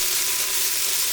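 Chopped bottle gourd drops into a hot pan of onions, producing a loud, steady sizzle of frying that fills the clip up close, ending with a short scraping thud.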